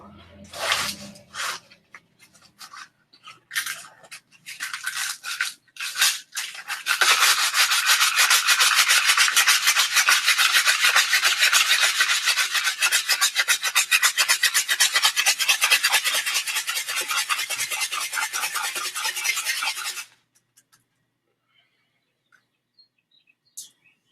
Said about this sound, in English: Hitting it with a rather large piece of sandpaper seems to get it all down rather quickly.